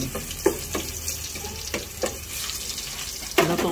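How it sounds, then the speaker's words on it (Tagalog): Garlic sautés in a pan for Filipino chicken tinola, a soft sizzle broken by several sharp clanks and scrapes of a utensil against the pan, close and without talk. "Lutuin ang bawang."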